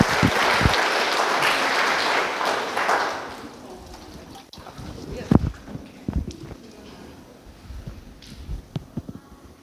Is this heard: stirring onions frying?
no